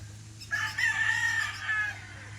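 A Golden Boy sweater gamefowl rooster, about 18 to 19 months old, gives a single drawn-out crow close by over a steady low background hum.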